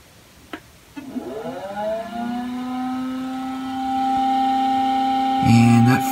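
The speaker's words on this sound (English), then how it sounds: "that floppy drive does not sound too good" Apple Macintosh Plus floppy drive running at power-up with a fault, giving a loud, sustained whirring whine that rises and holds steady for several seconds, then shifts into a harsher grinding tone near the end.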